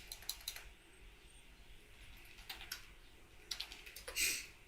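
Quick bursts of keystrokes on a computer keyboard, clustered taps separated by brief pauses, close and fairly quiet, ending in a louder flurry of clicks.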